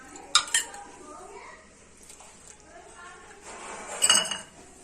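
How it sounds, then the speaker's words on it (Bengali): A spoon clinks and scrapes against a bowl or glass while mixing about half a spoonful of cornflour into lukewarm water for homemade malai kulfi, with sharp metallic taps near the start and again toward the end amid quieter stirring. "আমরা মিক্সড করব 1/2 চামচ মতো একটু হালকা কুসুম জলে কর্নফ্লাওয়ার।"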